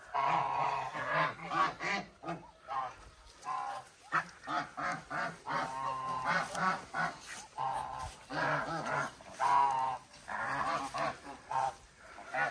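Flock of farm geese honking repeatedly while grazing on a hobby farm, a steady chorus of overlapping close calls throughout, with a few duck-like quacks mixed in.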